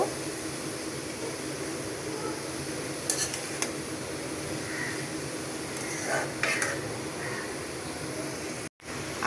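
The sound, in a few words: stirring cabbage fry in a pan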